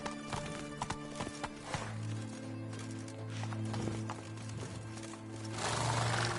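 Horse hooves clip-clop in a steady riding rhythm in The Witcher video game, with a low droning game soundtrack underneath and a louder swell near the end.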